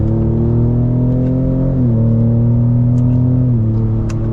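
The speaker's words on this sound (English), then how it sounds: "Oh, and it pops out the exhaust." A 2021 Ram TRX pickup truck engine drones loudly and steadily close by while accelerating, dropping pitch at gear shifts, with faint crackles and pops from the exhaust.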